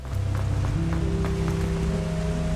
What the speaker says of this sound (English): Did we just run through a waterfall?